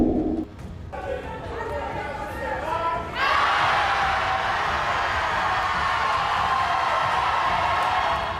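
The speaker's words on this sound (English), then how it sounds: "That is the sound of an auditorium full of Tiffany Henyard opponents rejecting her nomination" Auditorium crowd at a Thornton Township meeting shouting in protest against Tiffany Henyard's supervisor nomination, a loud sustained roar of many voices that swells sharply after a few seconds and holds steady.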